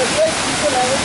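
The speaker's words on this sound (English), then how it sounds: "It's running water." Rushing water in Flume Gorge at Franconia Notch State Park, a dense, loud, constant roar with faint voices talking over it.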